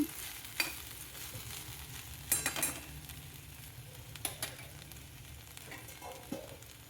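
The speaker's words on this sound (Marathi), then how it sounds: "थोडी क्रिस्पी हवी असेल तर अजून झाकण न ठेवता पाच सात मिनटं परतवून घ्यायची" Okra stir-fried uncovered in a pan, with a low steady sizzle and a few sharp spatula scrapes and clinks against the metal, fairly quiet overall.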